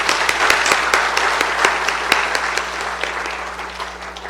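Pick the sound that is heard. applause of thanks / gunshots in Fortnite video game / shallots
applause of thanks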